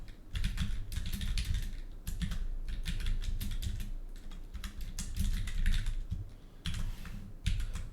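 Rapid, continuous typing on a computer keyboard while writing an Azure PowerShell script, a close and dense clatter of keystrokes in short bursts with brief pauses between them.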